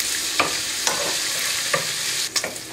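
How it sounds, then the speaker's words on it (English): Pancetta frying in oil in a pan for spaghetti carbonara, a close, steady sizzle with a few sharp stirring clicks and scrapes of a utensil against the pan, no voices. "We're going to pop this right in. We're going to let this pancetta nice and crisp."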